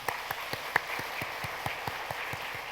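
A church congregation claps for newly baptized members after a baptism service, with sparse, evenly spaced claps at a fairly low level, sounding thin and a little distant.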